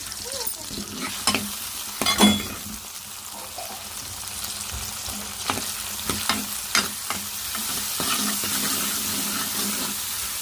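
Small chopped vegetable pieces frying in a pan for a curry, a soft steady sizzle with scattered clinks and scrapes of a spoon against the pan, fairly quiet and without talk.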